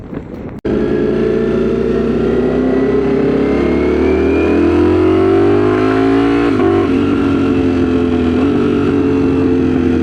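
A Ducati StreetFighter V4 motorcycle's engine starts up and revs loud and close, a steady rising drone with a brief dip partway through before it climbs and holds on.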